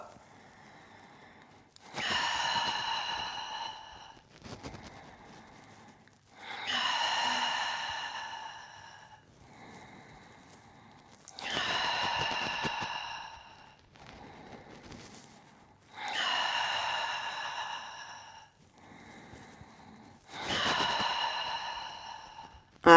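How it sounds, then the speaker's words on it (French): Slow, steady breathing during a Pilates exercise with a ball, heard close up as five long, audible breaths with short quiet gaps between them and no talking. "on inspire et on expire"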